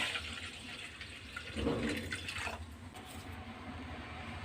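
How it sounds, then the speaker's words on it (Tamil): Hot water pours and splashes quietly over baking soda, with a brief fuller gush in the middle before settling back to a soft trickle. "இதில் கொஞ்சம் சுடு தண்ணி ஊற்றுங்க"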